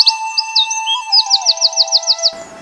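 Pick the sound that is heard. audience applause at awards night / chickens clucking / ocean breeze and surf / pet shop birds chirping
pet shop birds chirping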